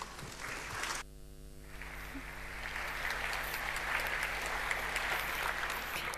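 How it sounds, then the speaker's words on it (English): A conference audience at DjangoCon applauds a speaker. After a brief hum the clapping swells into steady, broad applause from many hands that carries on to the end. "Give her a round of applause."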